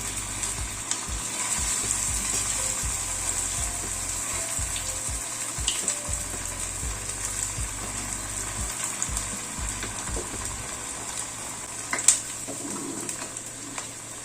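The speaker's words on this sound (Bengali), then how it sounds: "উল্টে পাল্টে চপটা দুটো দিকে ভেজে নিলাম" Beetroot and prawn chops deep-fry in hot oil in a small kadai over a lowered flame, giving a steady, even sizzle throughout with occasional faint clinks.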